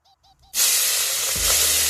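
After a few faint tones, tomatoes drop into hot oil tempered with five-spice (panch phoron), bursting into a sudden loud, sustained sizzle with some stirring scrapes near the end.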